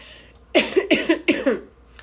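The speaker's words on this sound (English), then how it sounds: "I'm still fighting a little cough." A quick burst of several close, harsh coughs in a row, tapering off after about a second, with a faint sound at the end.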